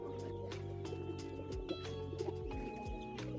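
Pigeons cooing inside a small two-level wooden pigeon house, several birds close by giving repeated soft throaty coos with other faint sounds in the background.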